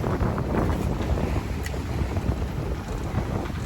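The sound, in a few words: wind on a sailboat at sea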